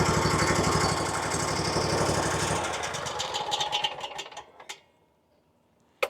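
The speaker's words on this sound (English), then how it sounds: "it sounds like it's running on one cylinder" A small engine running rough on one cylinder chugs loudly with a fast uneven pulse, then fades and stutters out into near silence with a couple of sharp knocks.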